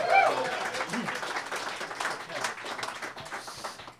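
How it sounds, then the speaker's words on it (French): A room of people at a live show claps in a sustained round of applause, moderately loud, with a voice briefly audible at the start. "une bonne main d'applaudissements, s'il vous plaît"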